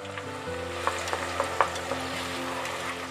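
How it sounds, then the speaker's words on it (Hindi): Onions fry in hot mustard oil with a steady, close sizzle, broken by a few light clicks and scrapes of stirring. "प्याज को बहुत अच्छे से फ्राई करेंगे गोल्डन ब्राउन होने तक।"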